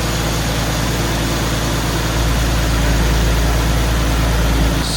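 A Nissan 370Z idling after an engine refresh, heard as a steady, loud, continuous low hum and drone with a slight rise partway through, close up.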